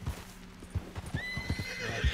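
Hooves of a low-level horse thud in a quick uneven rhythm through a video-game forest, followed by a loud, shrill neigh rising over the footsteps.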